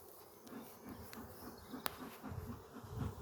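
British black honey bees buzz around an opened hive, a steady low drone near the listener with a brief sharp click midway and no talk.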